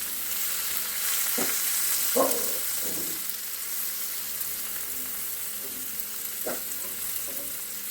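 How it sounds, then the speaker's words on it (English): Vegetables sauté in bacon fat, giving a continuous close sizzle with several sharp scrapes and stirs of a utensil against the pan. "I'm only going to wilt down everything and saute everything and get all the aromas going."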